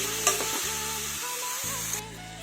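Two chopped tomatoes fry in a pan for a simple Assamese potato curry, giving a steady close sizzle with a few soft spoon scrapes as they are stirred. Nobody talks.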